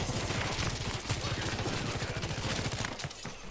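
Rapid, dense gunfire from the video game Overwatch 2, where Bastion and Sojourn are played, runs as a steady loud burst of repeated shots for the whole stretch, with a brief dip near the end.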